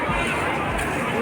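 A dense crowd mills about at Ara railway junction during the Kumbh period, a continuous close hubbub of overlapping voices and movement.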